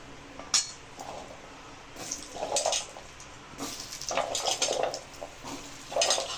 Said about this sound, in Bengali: এবার আলুগুলো আমি তেলেতে ভেজে নেব।